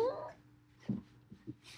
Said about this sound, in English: Dogs up there barking.